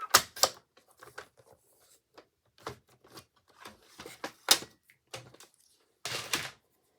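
Small piece of paper being cut for a scrapbook page, a series of short, soft snips and crisp paper rustles spaced irregularly, close and quiet with no voices.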